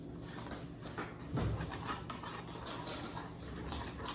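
A spoon stirs brown sugar in a pot in a home kitchen, scraping and clinking against the metal in quick irregular strokes at close range, fairly quiet, with no talk.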